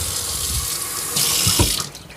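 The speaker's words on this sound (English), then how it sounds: "you want to run water across it like this" Tap water runs steadily over the pleated Dyson V11 Outsize filter, a continuous close hiss of the stream on the filter that swells louder midway and gurgles before fading, with no talk.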